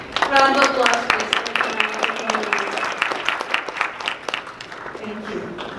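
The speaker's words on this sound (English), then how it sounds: "round of applause, please" A conference audience at SDG Convergence 2019 breaks into a sustained round of dense clapping that continues for several seconds, with a speaking voice over the start.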